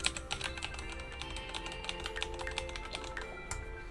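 Keys tapped in a quick, continuous run on a Logitech computer keyboard, a dense patter of soft clicks, close but fairly quiet, with no talk.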